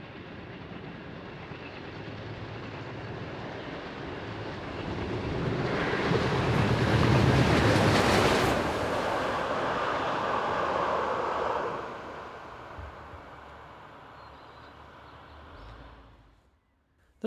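German steam locomotive number 41360 hauls a train northward towards Bayerfeld-Stockweiler in Rheinland-Pfalz, a steady rumble building to a loud close pass with rolling wheel noise, then fading as it draws away.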